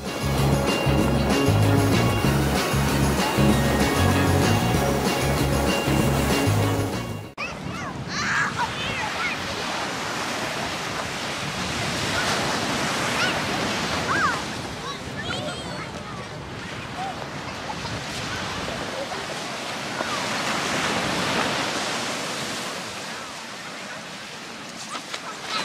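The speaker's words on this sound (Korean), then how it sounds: "파도 소리 들리시죠?" Ocean waves roll and wash onto a Hawaiian shore in November, a broad, continuous surf rush swelling and easing, with wind buffeting the microphone; music plays briefly before the waves take over.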